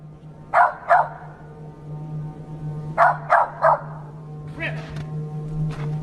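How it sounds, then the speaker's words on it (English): A dog barks in short sharp pairs and a triplet, moderately close, with fainter yips afterward over a steady low hum in recorded outdoor footage. "It doesn't seem to be wagging its tail anymore, and it's barking."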